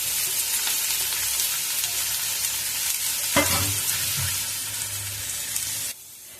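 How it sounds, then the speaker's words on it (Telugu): Thinly sliced onions, three of them, fry and crackle steadily in hot oil in a pan while being stirred, a continuous close sizzle with a few louder scraping stirs, and no voices. "ఆయిల్ వేడెక్కాక ఒక 3 ఉల్లిగడ్డలను సన్నగా కట్ చేసుకొని మనం యాడ్ చేసుకోవాలి."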